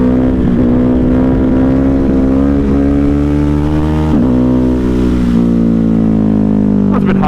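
A Ducati Hypermotard 950 motorcycle pulls hard in second gear during a wheelie, its loud, close engine note rising and holding as it revs, with a brief dip and surge partway through.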